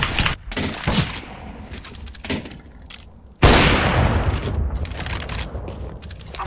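A flashbang grenade bursts with a sudden loud blast in a Counter-Strike: GO match, following a stretch of rapid gunfire clatter, with a sustained hissing roar lingering after the bang.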